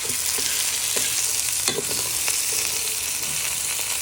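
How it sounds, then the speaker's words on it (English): Bacon and sausages fry in a pan with a steady loud sizzle, while a utensil stirs and scrapes through them in a few distinct knocks; no voices. "So we're stirring in the bacon into our sausages for a minute or 2."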